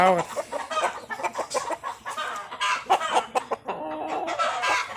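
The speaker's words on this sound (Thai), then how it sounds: "ไก่หนุ่ม ประมาณหกเดือน เกือบเจ็ดเดือนแล้วตอนนี้" A young rooster, about six to seven months old, clucks in short, choppy bursts, close and fairly loud, with a few stretched calls between the clucks.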